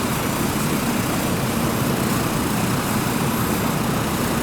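An Airbus H225 helicopter in Microsoft Flight Simulator 2024 produces a steady, dense engine and rotor roar that fills the scene evenly and holds without change, with no voices over it.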